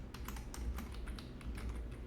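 Quiet, steady typing on a computer keyboard while code is entered: rapid light key clicks in an irregular rhythm, close and soft over a low background hum, with no talk.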